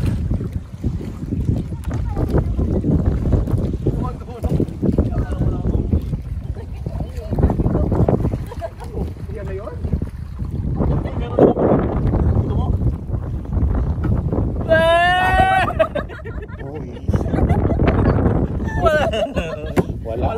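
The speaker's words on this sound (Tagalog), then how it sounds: "Sobra lakas ng hangin" Strong wind buffeting the microphone at Jackfish Lake in Norman Wells, a steady low rumbling roar with gusts, while people talk over it.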